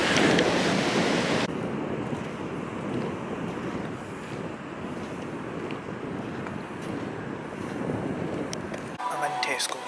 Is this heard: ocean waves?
yes